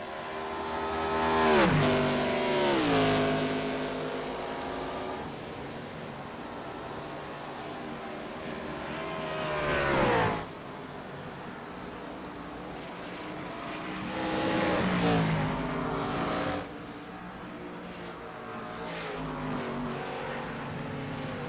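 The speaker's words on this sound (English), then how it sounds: "You hear David really working the throttle there in the middle of the carousel." A race car in a PSRA Open ARCA Series race at The Glen, heard working the throttle through the carousel: repeated engine surges rising and falling in pitch as it passes, alternating between louder roaring bursts and quieter lulls.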